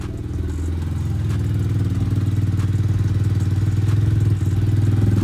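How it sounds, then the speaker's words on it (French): A motorcycle engine idles close by with a steady, throbbing rumble and a fast, even pulse that holds for several seconds. "On va redescendre un peu le ralenti."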